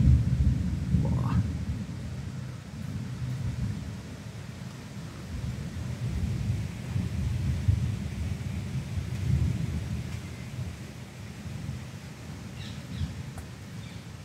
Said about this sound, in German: Da ist das Gewitter.